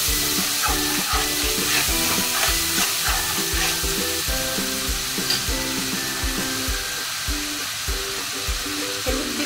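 Slit green chillies hit hot oil in a pan with hilsa fish head, giving a steady, fairly loud sizzle and crackle that runs the whole time with no voices.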